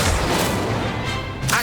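An Incendio fire spell cast in the Hogwarts Legacy video game bursts as a dense, roaring whoosh that fills the whole moment, loud and close, ending with a brief flare.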